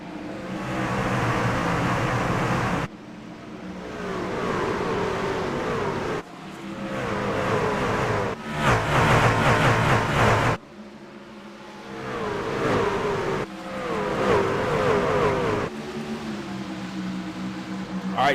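Race trucks in an iRacing truck series event at Bristol roar as they accelerate at the green flag, engine noise loud and continuous with repeated surging revs and shifts across the whole stretch.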